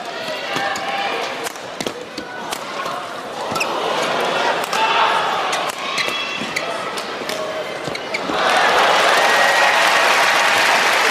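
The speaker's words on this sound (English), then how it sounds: "And the crowd applauding because they would like to see more of a contest." A crowd at a professional sports match breaks into applause, a broad wash of clapping with scattered sharp impacts that swells noticeably louder toward the end.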